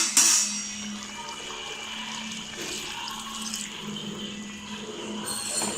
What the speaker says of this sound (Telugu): ఇప్పుడు కొంచెం వాటర్ని యాడ్ చేస్తున్నాను